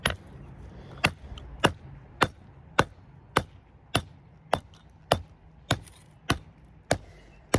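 Hammer blows knocking the core out of a 1000 watt transformer: thirteen sharp metallic strikes at a steady rhythm about half a second to a second apart, close and loud, with no talking.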